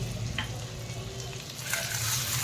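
Chopped ginger and green chillies fry in a pan for fasting-day sabudana khichdi, a steady close sizzle with soft stirring and no talking, swelling slightly louder toward the end.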